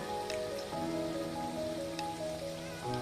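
Dense, steady rain hisses without pause, with a faint sustained musical tone running underneath.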